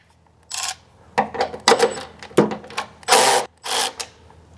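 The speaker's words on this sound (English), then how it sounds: "So I'm going to remove this bolt here, which is the middle one out of these three" A hand ratchet backs out a headlight bolt on a 2025 or newer GMC Yukon, giving a series of loud, close bursts of clicking with short pauses between them.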